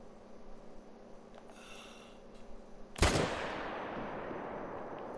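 A single sharp rifle shot cracks out during a fallow deer hunt, followed by a rolling echo that fades slowly against quiet outdoor ambience.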